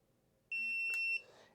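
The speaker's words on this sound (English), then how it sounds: "And you heard that beep, it's powered up." A single steady electronic beep from a Holystone HS900 Sirius drone powering up, close and clear, lasting over half a second with a faint click partway through, in a quiet room.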